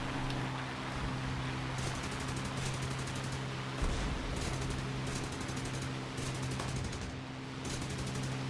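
The guns of a Spitfire Mk2A fire in War Thunder, a steady hail of rapid rattling bursts under a constant engine drone, repeating in long strings with short breaks.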